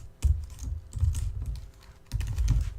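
Rapid typing on a computer keyboard, with irregular bursts of close, soft keystrokes separated by brief pauses.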